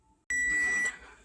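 A kitchen timer sounds one loud, sustained, high-pitched electronic beep lasting about half a second, close by in a home kitchen where a mock T-bone steak is cooking.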